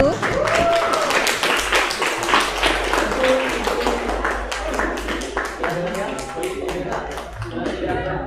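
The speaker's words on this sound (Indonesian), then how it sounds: "kita beri tepuk tangan dulu untuk kelompok 1" Classroom applause for the first presenting group, a steady spatter of hand claps running the full length with voices talking over it throughout.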